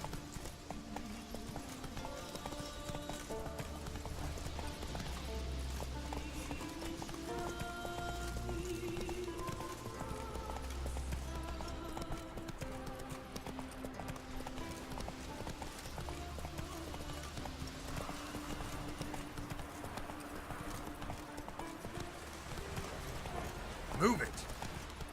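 A horse gallops in The Witcher 3, its hoofbeats running fast under a dense bed of game music and ambience, with a rider's voice speaking over it.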